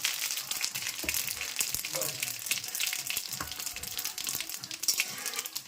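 Cumin seeds fry in oil for jeera rice, a steady, fairly quiet sizzle and crackle with small pops, heard close with faint stirring.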